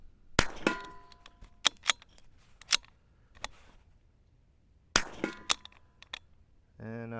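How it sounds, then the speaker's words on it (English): Rifle bolt on a Zermatt Rim-X being worked close up, sharp metallic clacks and clinks in two bursts as cartridges eject, ending with a brief voice. "I'm going to operate the bolt like I usually do. Yeah, it's kicking the cartridges a lot different."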